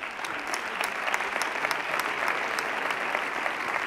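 An audience at a Seville Holy Week gala claps at moderate volume, a steady wash of applause with some individual sharp claps standing out near the listener.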